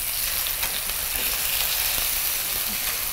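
Chicken pieces fry in hot oil with a steady, dense sizzle and crackle, close and continuous across a short stretch with no voices.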